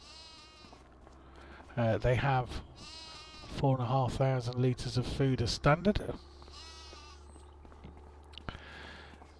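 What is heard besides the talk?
sheep bleating in Farming Simulator 25 video game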